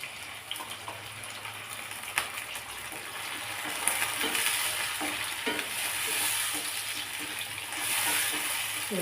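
Ground tomatoes sautéing in a pan for an instant Tamil-style kuzhambu, with a steady close sizzle and scattered stirring scrapes throughout, no voices.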